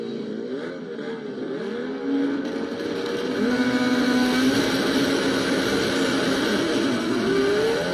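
Turbocharged Toyota MKII Supra making a record drag racing pass down the right lane, a loud sustained engine roar climbing in pitch as it accelerates, heard alone without talk.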